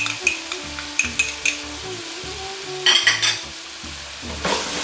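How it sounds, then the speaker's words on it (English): Ginger garlic paste sizzles in a pan for lamb rogan josh while a utensil stirs it, scraping and clinking against the pan in a regular rhythm over a steady frying hiss. "So it has been frying for the last 2 minutes for the ginger garlic paste."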